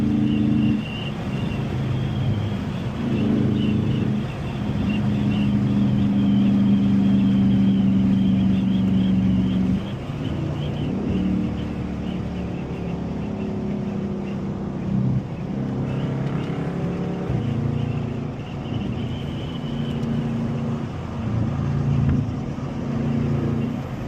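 Straight-piped Dodge Charger Daytona Scat Pack with the 392 engine, heard from inside while driving in cold weather: a loud, steady low exhaust drone that rises and eases with throttle, plus rushing road and wind noise and no pauses.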